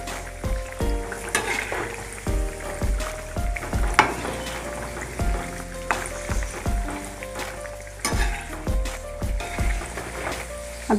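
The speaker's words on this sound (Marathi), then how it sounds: "वडे ना ते देखील आपण आता टाकून घेऊ तेलामध्ये." Sprouted moong dal vadas frying in hot oil, a steady crackling sizzle broken by repeated clanks of a spoon or ladle against the pan at irregular intervals, close and clear with no talking.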